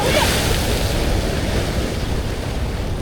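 Ocean waves surge steadily against the shore while fishing at Bluff, New Zealand, a loud, continuous broadband wash of surf with gusty wind noise and no pause for its whole length.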